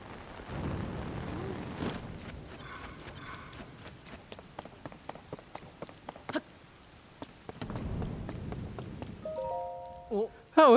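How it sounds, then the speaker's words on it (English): Rain and thunder in the video game The Legend of Zelda: Tears of the Kingdom: steady rain patters beneath scattered clicks and footstep-like taps, with low rumbles of thunder rising and fading; short electronic beeps near the end. "I mean, it's thunderstorming"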